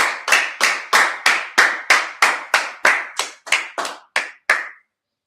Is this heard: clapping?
yes